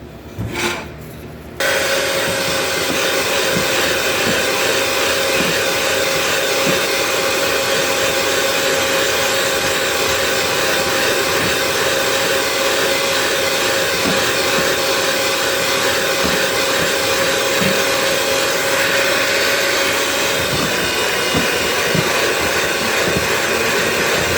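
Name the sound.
electric mixer creaming powdered sugar and shortening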